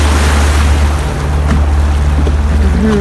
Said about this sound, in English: Okay, these are the waves right now.